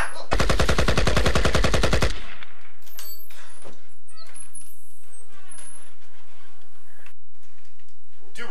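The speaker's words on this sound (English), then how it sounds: "was that a gunshot?" A gunshot-like burst of rapid repeated bangs, loud and near, lasting about two seconds, followed by quieter scattered clatter and household noises.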